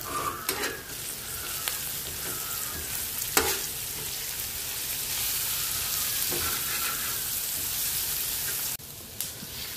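Onions frying in a pan until browned make a dense, steady sizzle, with spatula scrapes and stirring knocks breaking through near and loud before a brief dip.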